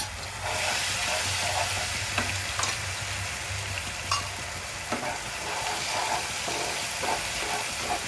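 Tomato, onion and potato paste frying in hot oil, a steady close sizzle and hiss with faint stirring clicks, continuous and fairly quiet with no talking.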